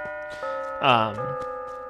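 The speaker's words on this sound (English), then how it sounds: "some chimes" Sustained chime tones ring steadily and evenly through the whole moment, with a short voiced exclamation rising briefly over them midway.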